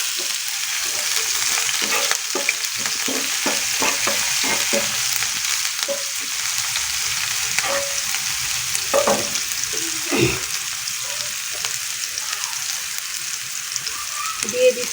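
Onion and green chilies frying in hot oil in a pan, a steady close sizzle broken by scraping stirring strokes and clinks, with brief faint speech.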